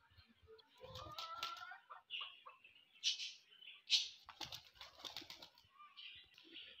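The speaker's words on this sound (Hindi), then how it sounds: "अभी सारे कबूतर दाना खा रहे हैं" Pigeons feeding on scattered grain on a rooftop, with soft coos, wing flutters and small scratchy movements coming and going near the listener, no talking.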